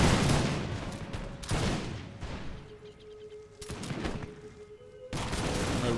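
A volley of musket fire from musketeers in a Prussian-era strategy battle game, bursts of crackling gunfire with booming reports, loud and repeated across the scene, with no talking.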